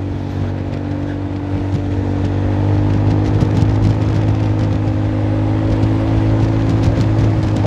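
Steady engine drone from a Honda Forza 300 scooter while riding, an even, continuous hum with a faint whir and slight rise in intensity midway, close and loud throughout, with no one talking.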